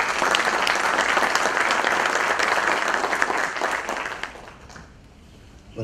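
Strong applause from the audience welcoming the opening speaker at a national notarial conference in Cusco, a dense continuous round of clapping that fades away near the end.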